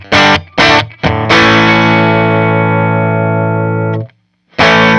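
A vintage Fender amp set for a Vox-like tone gives a loud electric guitar sound: a few short chord stabs, then one long ringing chord that sustains for about three seconds before it cuts and another stab starts.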